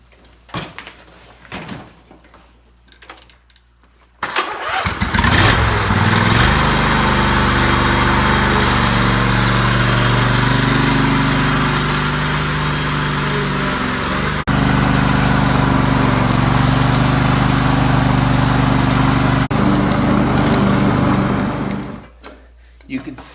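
A Craftsman DLT 3000 lawn tractor engine starts up and runs loudly and steadily for most of the recording, then cuts off near the end. Brief talk comes before it starts.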